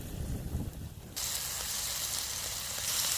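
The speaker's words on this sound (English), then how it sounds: "the beef and the onions are starting to sizzle a little bit now" Beef and onions sizzle in a pan on a camp stove, a quiet crackling hiss that swells suddenly after a moment and stays steady and close, with no talking.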